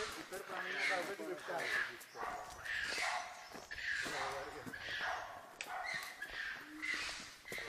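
Village dogs from Ambeli, accompanying a group on a mountain trek along Kaulyachi Dhar near Bhimashankar, bark and yip in quick repeated bursts close by, mixed with ongoing conversation.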